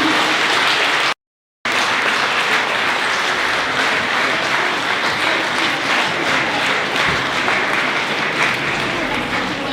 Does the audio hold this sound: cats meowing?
no